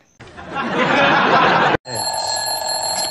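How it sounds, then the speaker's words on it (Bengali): A loud electronic alarm rings continuously, first as a buzzing tone, then after a brief break as a shrill, high-pitched ringing. "আবার অ্যালার্ম বাজানো শুরু করছে"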